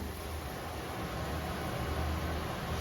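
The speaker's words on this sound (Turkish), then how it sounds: "Aspiratör açtığın ses gelecek ama" A steady broadband whoosh of a kitchen extractor fan runs continuously, even and unbroken, with a low hum underneath and no talking.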